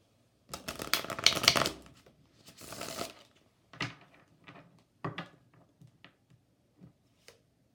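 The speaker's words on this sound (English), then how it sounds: "I want to pull two Chakra Oracle cards." Oracle cards are shuffled by hand in bursts of close riffling and soft slapping, busy at first and then thinning into a few separate taps and clicks, with no talking.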